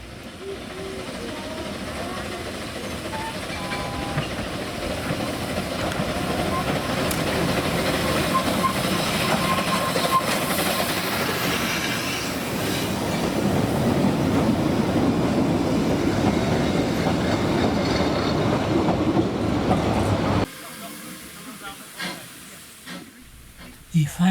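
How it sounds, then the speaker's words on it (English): Double-headed steam train on the Ffestiniog Railway, Hunslet quarry locomotives Britomart and Lilla hauling from Porthmadog to Tanybwlch; loud sustained chuffing and hiss with rolling clatter for about twenty seconds, then fading to quieter sounds. "Britomart and Lilla double-headed train from Porthmadog to Tanybwich."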